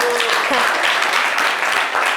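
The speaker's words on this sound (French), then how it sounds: "On va applaudir pour elle." Studio audience applause on a television talk show, a steady, dense burst of clapping close by that fills the whole moment, with a voice briefly heard at the start.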